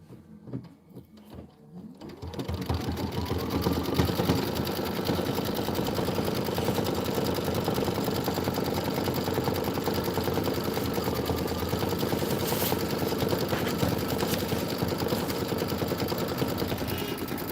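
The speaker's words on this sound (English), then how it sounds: "now it wants to do the gorgeous decorative stitching outline" A Kimberbell embroidery machine stitches a decorative outline, starting softly and then running in a steady, close, rapid mechanical hum and clatter without pause.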